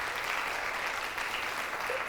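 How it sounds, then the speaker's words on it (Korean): A church congregation claps in welcome for visiting members, a thick, even patter of many hands held at a constant level throughout. "박수로 환영해 주세요."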